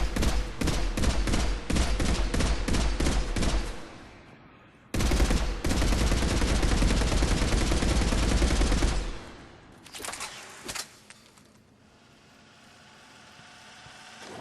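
Full-auto fire from the Revenant weapon in Mass Effect 3 rattles out in long rapid bursts at a target range, loud and close, broken by short pauses and ending in a few scattered shots.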